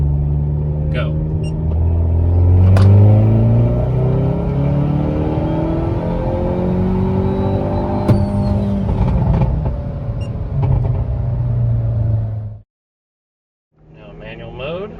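A Hyundai Elantra N with a turbo engine accelerating hard in third gear in manual mode, a loud rising engine drone climbing steadily, then cutting off abruptly before resuming, close inside the car with a voice over it.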